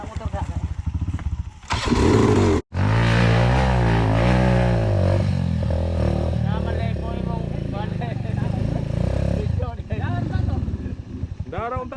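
A motorcycle engine labors uphill, loud and close, with a rough revving drone that dips sharply around the third second before continuing steadily, while people talk over it.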